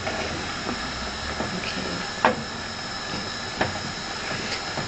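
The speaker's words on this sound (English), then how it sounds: "Now that I added the cream to it, just let it slightly simmer, slowly simmer." Cream simmers gently in a pan as the base for a fish pie, a low steady hiss with faint bubbling and a couple of soft clicks from the pan.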